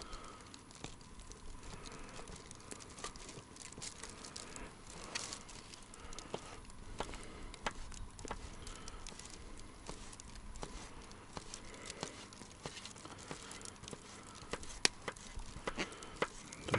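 Light rain patters steadily on a surface at a riverside tent camp, a soft continuous crackle with scattered louder drops, heard alone and fairly quiet.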